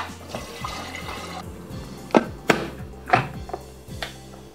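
Water runs and splashes into a pot for boiling ramen, with several sharp clanks and knocks of cookware over the steady liquid flow.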